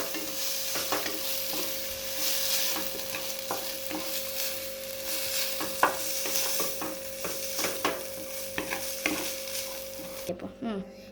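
Maggi noodles are stirred in a hot pan with spices, a spoon scraping and knocking against the metal in irregular strokes over a continuous soft sizzle, ending abruptly.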